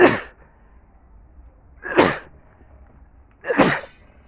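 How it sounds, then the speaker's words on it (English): Three sharp sneezes spaced a couple of seconds apart, close and loud, with quiet pauses between them. "Sneeze coming again."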